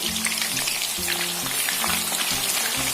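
Potatoes frying in hot oil over a full flame, a loud, continuous close sizzle with a rhythmic low pulsing hum running beneath it and no talking.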